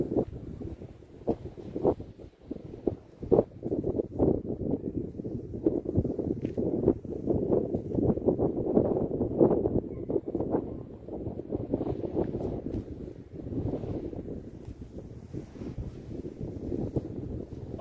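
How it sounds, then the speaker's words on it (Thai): Strong wind blows over a reservoir in Khon Kaen and buffets the microphone in a continuous, gusty low roar that rises and falls without a break. "ลมแรงมากๆครับ"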